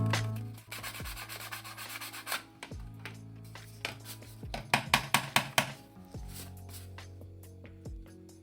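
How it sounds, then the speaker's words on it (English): Small sanding sticks rub lettering off a Rubie's plastic Mandalorian toy blaster, producing close, scratchy back-and-forth strokes in uneven bursts, with a quicker run of sharp rasps near the middle. "I've got a couple of wee sanding sticks, and I will just sand it away."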